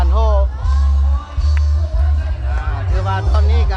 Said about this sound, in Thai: ต้องมีการโห่